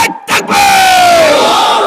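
A large crowd at an outdoor Islamic religious gathering roars a loud, sustained chant in unison, a massed shout answering a call of Nara-e-Takbir that swells and holds, with a brief pause early on.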